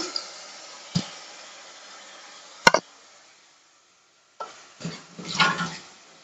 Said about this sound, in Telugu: వేసుకున్నాక కొద్దిసేపు కలుపుకోవాలి